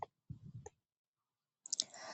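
Two separate computer mouse clicks while choosing the compose button in a webmail screen: sharp, short and close, split by a quiet gap, with brief soft speech before and after.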